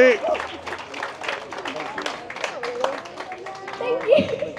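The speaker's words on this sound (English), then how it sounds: "Big clap for Richard." Audience at a tractor run fundraiser claps for the organiser, moderately loud, mixed with chatter and children's voices throughout.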